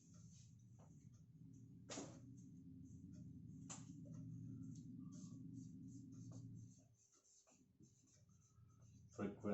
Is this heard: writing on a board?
yes